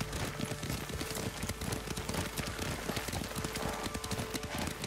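Rhythmic clip-clop of horse hooves at a steady riding gait in Ghost of Tsushima, continuous and close, with a faint patter like rain mixed underneath.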